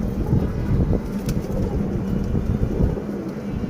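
Pigeons coo inside a loft among adult birds and young squabs, a low continuous burbling cooing with a dull rumbling background, no voices present.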